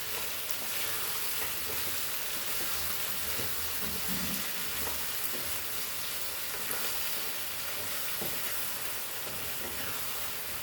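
Goan crab xacuti with green masala and potatoes cooks in a pan, giving off a steady, close sizzle and fry hiss with occasional stirring scrapes and no pauses.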